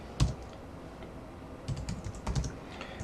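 Someone types a terminal command on a computer keyboard, with scattered soft key clicks and a few quicker clusters of keystrokes, close and quiet, with no talking.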